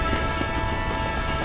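A train rumbling past in Team Fortress 2, a steady, loud mechanical roar with a low rolling rumble and tonal whine, holding constant with no voices over it.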